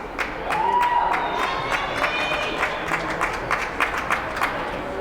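Crowd noise in the Kenneth King Gymnasium at a high school girls' basketball game, a steady murmur of spectators with scattered claps and sneaker squeaks echoing in the hall, under no clear speech.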